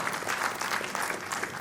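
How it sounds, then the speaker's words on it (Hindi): A convocation ceremony audience applauds with a steady, dense patter of clapping, moderately distant, for under two seconds without a break. "जोरदार तालियां एक बार फिर।"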